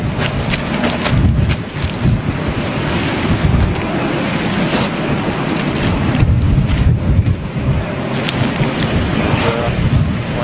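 Strong wind blows outdoors at JFK Airport in New York on a chilly day, loud gusty buffeting rumbles across the microphone that continue throughout.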